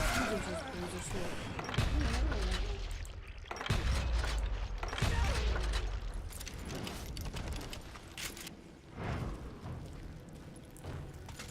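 Gunfire in the Call of Juarez: Gunslinger video game, with several sharp, loud shots spaced a couple of seconds apart, heard beneath game music and a voice talking throughout.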